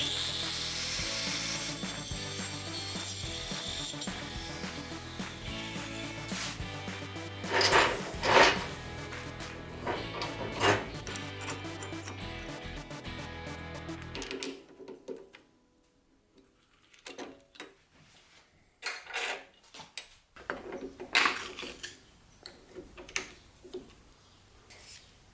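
A drill press machines a grinding wheel clamped in a two-axis vise, giving a steady gritty grinding and rubbing with scraping bursts that stop about halfway through, leaving sparse knocks and scrapes.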